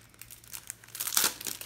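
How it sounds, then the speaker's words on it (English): A scrapbooking sticker book is torn apart by hand, close-up crinkling and ripping of paper and card in short uneven bursts that swell to a louder tear near the end. "I'll probably end up tearing it apart just to make my life a little easier"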